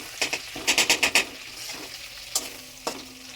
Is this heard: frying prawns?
yes